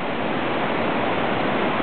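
Steady, dense rushing of a whitewater waterfall as kayakers go over it: broadband roaring water held at an even, loud level for the whole moment, with no voices.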